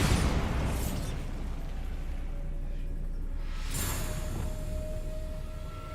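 Bombarda, the explosive spell in Hogwarts Legacy, lands as a sharp blast at the start, fades into a dull roar, then a second loud burst erupts near the end over continuous game ambience.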